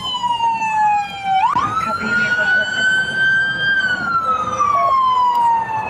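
A police car siren wails nearby at an armed stop outside a pizzeria, its pitch sweeping sharply up, holding high, then sliding back down over rumbling traffic noise.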